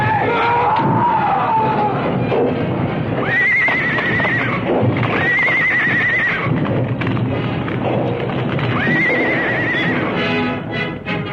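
Stagecoach horses whinny and scream repeatedly in distress as they struggle for footing on a slipping trail, with hooves clattering and a continuous loud commotion underneath.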